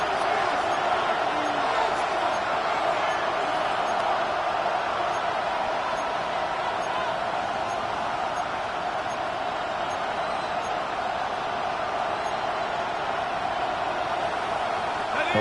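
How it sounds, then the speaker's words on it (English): A packed football stadium crowd roars steadily during a tense late fourth-quarter moment of a Jaguars–Titans game, a dense, continuous wall of cheering and racket with no letup from start to finish. "this crowd doing their best to make a lot of racket"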